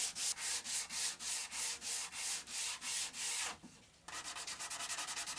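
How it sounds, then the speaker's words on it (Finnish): A wooden body is sanded by hand in steady, close back-and-forth strokes, about a dozen even rasps. After a short pause the strokes resume quicker and shorter. No voices. "Seuraava vaihe kestääkin ikuisuuden, eli rungon hionta."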